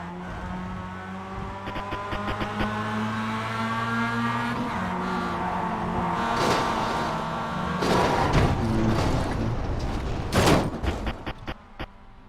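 A sim race car runs hard into a corner on the throttle and drifts, its engine droning and shifting pitch, with tire squeal and rattling scrapes building toward the end, loud and close without talk.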